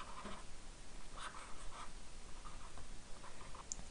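Pen or marker scratching steadily on a surface while a mass-spring-damper diagram is drawn by hand, a quiet, continuous scribbling texture with small strokes and taps and no talking.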